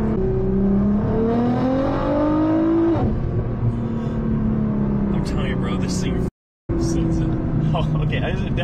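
A sports car engine revs with rising induction noise and a meaty exhaust note, the pitch climbing and then settling, heard from inside the cabin under constant talking, with a brief dropout near the end.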